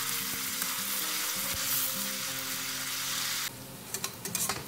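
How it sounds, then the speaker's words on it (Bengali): Onions frying and being stirred in hot oil for a shahi egg korma, a steady loud sizzle with scraping stir strokes, then quieter crackling with sharp spatters near the end. "তেল গরম হয়ে গেছে, এবারে পেঁয়াজগুলো দিয়ে দেবো। এটা সবসময় একটু নেড়ে ভালো করে ভেজে নিতে হবে।"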